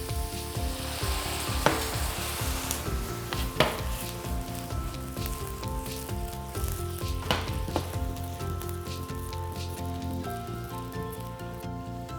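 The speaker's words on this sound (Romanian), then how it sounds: "După ce s-a topit untul și s-a încins tigaia din nou, adăugăm coniacul pentru un plus de gust." Cognac flambéed in a hot pan of melted butter with salmon fillets crackles and sizzles steadily, with frequent sharp pops and spits standing out over the dense frying hiss.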